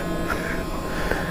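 A motorcycle's electric fuel pump primes after five months in storage, giving a steady, close buzzing whir that holds at an even level throughout the short stretch.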